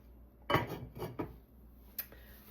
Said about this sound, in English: So I'll continue to smash and cook